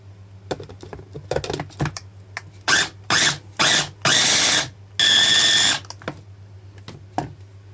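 A food grinder runs in several short bursts, mincing a chicken kofta mixture, each harsh mechanical whir lasting about half a second to a second, the longest near the end, with clicks and handling noise between bursts over a steady low hum.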